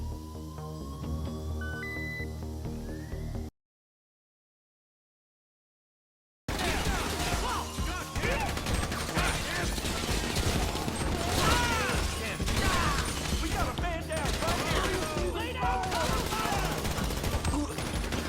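Gunfire erupts during an aggressive GTA Online Diamond Casino heist, with dense rapid bursts of shots layered over game music and effects after a short silent gap, and a voice speaking over it.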